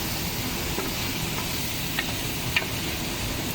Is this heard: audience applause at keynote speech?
no